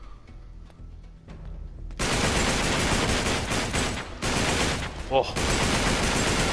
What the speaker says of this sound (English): Yes, well, I love this gun. This thing's noisy.